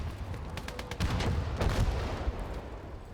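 Artillery fire in the WWII game Gates of Hell: Ostfront, a dense rumbling barrage of overlapping booms and cracks with heavy low thuds, loud and continuous across the moment.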